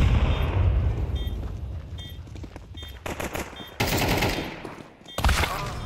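Rapid bursts of automatic gunfire from a first-person shooter game, loud and close, firing in several short volleys with brief gaps between them.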